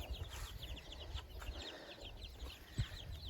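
A hen clucks softly nearby while her brood of 26 chicks cheeps in high, rapid peeps, with a faint thump partway through.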